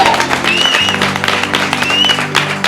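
A church congregation claps together at a prophetic ministry service, a dense, steady patter of many hands filling the room close by, with faint murmuring and a few higher sounds mixed in.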